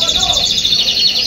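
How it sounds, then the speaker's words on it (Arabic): A canary sings at a busy bird market in Baghdad, a bright, rapid chirping trill that carries over crowd murmur and background voices. "سناري رجع ويغرد"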